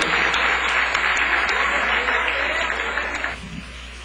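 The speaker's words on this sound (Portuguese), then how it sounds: "Que essas palmas sejam mais fortes para o Senhor." A church congregation claps together in a dense, sustained round of applause that fades toward the end.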